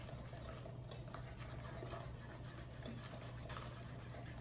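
Pineapple ice cream mixture is whisked steadily in a bowl, a soft continuous scraping and swishing that stays faint and even throughout with no voices.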